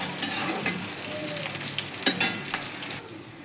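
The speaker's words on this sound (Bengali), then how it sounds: "আর পেঁয়াজটা মোটামুটি ভাজা হয়ে যাবে, এর থেকে বেশি ভাজবো না" Onions frying in a pan alongside water spinach greens, a steady close sizzle with scraping stirs and a few louder clatters of the utensil against the pan, no voices.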